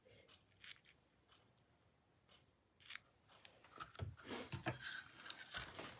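Ribbon scissors snip through ribbon in a few quiet, crisp cuts, with soft handling and rustling between them and no talking.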